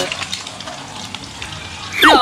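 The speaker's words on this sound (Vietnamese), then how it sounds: "Để tôi sẽ chiên cái xúc xích nha." Sausage halves frying in a pan, a close, steady hiss and sizzle of hot oil, with a brief voice at the end.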